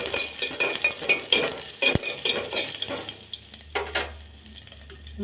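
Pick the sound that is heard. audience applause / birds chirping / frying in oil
frying in oil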